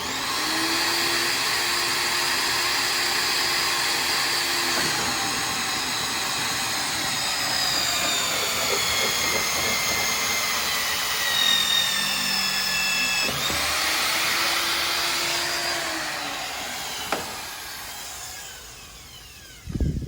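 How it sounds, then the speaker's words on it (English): Pipe facer tool running on Aquatherm plastic pipe, a loud steady motor whine with grinding, shaving texture throughout, pitch dipping and rising as it cuts, close and continuous, ending with a couple of knocks. "I guess I should turn it on. It's going to get loud."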